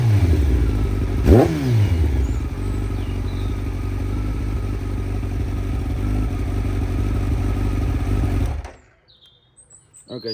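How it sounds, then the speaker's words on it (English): A Kawasaki ZX12R motorcycle fitted with a Pipercross air filter idles loudly with a steady throb, one quick rev near the start and intake suction, then cuts off abruptly, leaving faint birdsong. "He's got like a suction noise coming from the intake, which sounds really nice."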